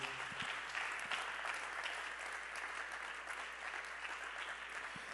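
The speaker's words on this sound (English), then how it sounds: "Can you clap your hands one more time to the Lord?" A church congregation claps their hands together, a steady, even spread of many hands applauding, fairly faint and distant, with a few low thumps.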